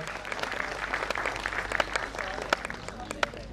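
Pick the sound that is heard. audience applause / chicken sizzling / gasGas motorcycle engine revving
audience applause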